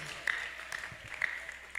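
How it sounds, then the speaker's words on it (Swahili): A church congregation clapping in honour of the Lord, a brief spell of scattered applause heard under a speaking voice. "Tunaweza tena shangilia Bwana kwa makofi ya heshima"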